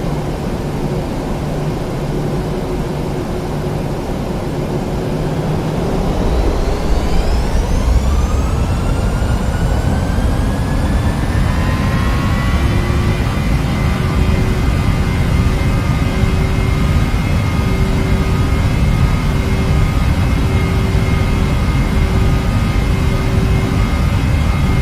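Boeing 737 jet engines spool up for takeoff in Flight Simulator X, a low rumble swelling into a loud, steady whine with rising tones that then hold constant, continuous and close.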